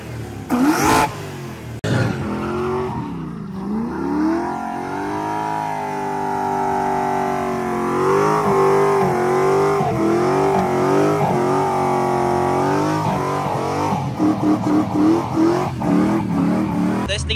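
Engine of a 1980 Toyota Corolla KE70 revving hard as the clutch is dropped, a loud, close rising and falling roar that climbs and holds through most of the stretch, ending in choppy bursts.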